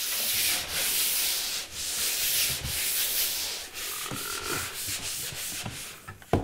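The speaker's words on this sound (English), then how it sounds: "Gonna just use this disc sander here." A disc sander runs steadily across a painted basement surface between coats, making a loud, continuous, gritty rubbing hiss with brief dips as it lifts and shifts, and no voices over it.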